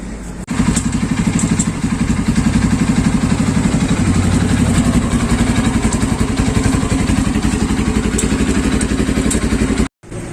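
A Kawasaki Z200 motorcycle idles steadily after a chain cleaning, its loud, close engine putting out an even, fast-pulsing thrum that barely changes and cuts out briefly near the end.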